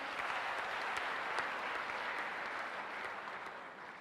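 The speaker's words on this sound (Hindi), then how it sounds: "एक बार शिशिर सर के लिए भी जोरदार तालियां हो जाए।" Steady applause from an audience at a defence academy's annual celebration, dense and even throughout, fairly distant and continuous with no speech over it.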